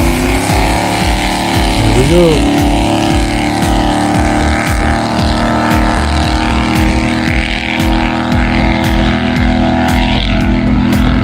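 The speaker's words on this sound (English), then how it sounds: "Time to start the engine." A 1969 Glastron motorboat engine catches and settles into a loud, steady rumbling idle close by, with a brief spoken remark near the start.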